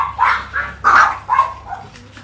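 Chihuahuas bark in a quick series of close, sharp yips, five or six bursts in a row that fade off toward the end, with no talking over them.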